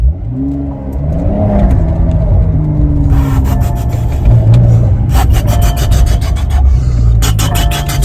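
A 2020 Porsche 911 (992) Carrera S engine hums and revs while driving, with rumbling road noise and intermittent scraping, rattling sounds over the steady drone.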